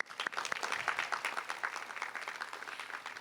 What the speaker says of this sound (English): Please welcome me with an applause.